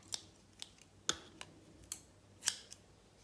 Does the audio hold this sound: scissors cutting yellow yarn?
yes